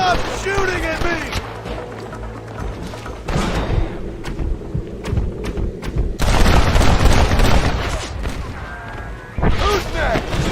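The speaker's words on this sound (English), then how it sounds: "Stop shooting at me!" Gunfire in the western game Red Dead Redemption: heavy booming shots and thuds break out among the background noise, at times loud and close, with a voice talking through the clip.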